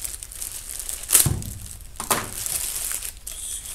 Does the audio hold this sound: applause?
no